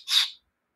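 A cockatiel gives one brief, soft, high chirp up close. It lasts under half a second and is followed by silence.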